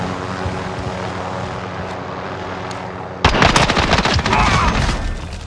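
In Call of Duty: Modern Warfare, a steady helicopter drone drones alone before a sudden loud burst of rapid gunfire and explosions erupts up close, continuing in dense crackling volleys.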